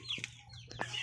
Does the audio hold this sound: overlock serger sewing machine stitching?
no